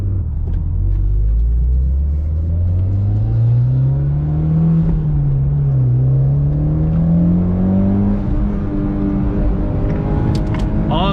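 A tuned Mitsubishi Lancer Evo X GSR running on E85 drives hard from the cabin, its engine droning and rising in pitch through long pulls with a steady rumble, loud and continuous throughout.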